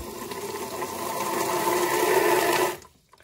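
Steady rushing flow of water running from a tap, loud and close, continuing for a few seconds before cutting off abruptly near the end.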